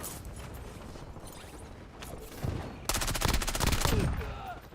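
Rapid gunfire in a military video game, a dense volley of automatic shots bursting in loud and close after quieter mechanical clatter.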